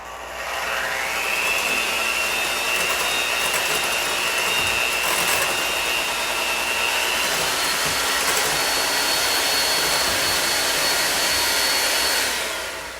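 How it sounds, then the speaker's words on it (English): An electric mixer whisks eggs, sugar and vanilla extract into madeleine batter, a steady close motor whine with a rising pitch as it starts, running continuously for about twelve seconds before cutting off. "I'm gonna mix it again for like a few seconds"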